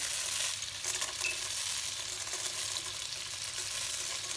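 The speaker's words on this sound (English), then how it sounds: "in the butter I put in the vermicelli," Vermicelli frying in butter, a steady, fairly quiet sizzle with light crackle and occasional stirring movement throughout.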